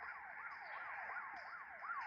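A police car siren wails in a steady rising-and-falling cycle, repeating about every third of a second, heard faintly and alone with no talk over it.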